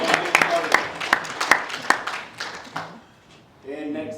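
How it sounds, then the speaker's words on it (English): Sparse audience clapping at a university law symposium, a handful of distinct claps that thin out and fade to near silence, then a voice begins speaking. "a round of applause"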